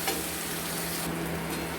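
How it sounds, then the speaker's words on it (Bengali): Onion and garlic fry in a pan until the onion turns reddish, making a loud, continuous crackling sizzle close by, with a faint stirring change partway through and no voices. "এটাকে আমরা ভালো মতো করে ভেজে নেব যতক্ষণ না রসুনের কাঁচা গন্ধ যাচ্ছে আর পেঁয়াজটা লাল লাল হচ্ছে"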